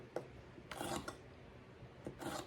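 A kitchen knife slices potatoes into rings, giving a few short, raspy cuts spaced apart, quiet and close, with no talking.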